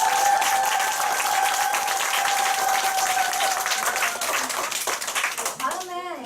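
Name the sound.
applause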